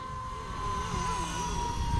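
A Blade 230s RC helicopter flies low to the ground, its rotor and motor giving a continuous steady whine and whirr with slight wavering pitch as it maneuvers nearby.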